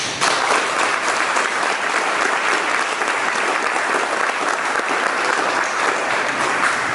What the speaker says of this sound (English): I want everybody to give these guys a round of applause